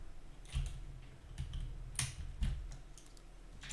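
Keys clatter on a mechanical keyboard fitted with Magnetic Jade switches, a quiet, irregular run of clicks and thocks at close range with no talking.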